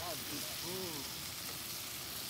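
Cooked onions and beans fry in a pan, giving a steady, close sizzling hiss while a voice talks over it.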